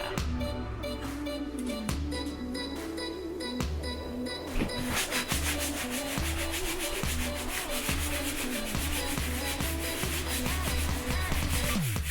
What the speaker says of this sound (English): We were sanding